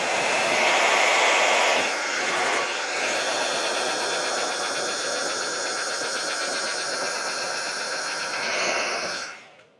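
Hair dryer blowing hot air onto hair during styling, a steady loud whoosh with a faint airflow hum that lasts almost ten seconds before switching off at the very end.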